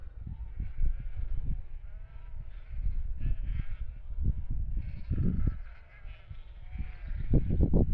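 Sheep bleat repeatedly in a flock as they trail behind a farmer's quad bike, a steady engine rumble underneath and several calls overlapping, some close and loud.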